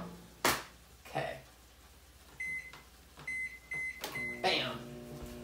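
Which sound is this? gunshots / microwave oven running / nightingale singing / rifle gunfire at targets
microwave oven running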